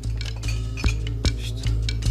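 Dishes clink while being washed up, with sharp chinks of crockery and cutlery striking at irregular intervals over a steady low hum.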